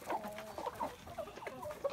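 Free-range hens forage and cluck nearby, soft intermittent clucks and brief higher calls over a low murmur of flock noise.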